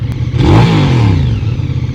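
A QJ Motor SRV 550 ST motorcycle engine is blipped close up, a deep thumping idle that swells into a short rev and falls back to a throbbing, uneven idle.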